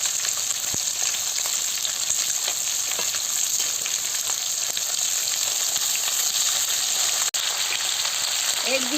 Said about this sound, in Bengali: আমি মাছটাকে লাল লাল করে ভেজে নেব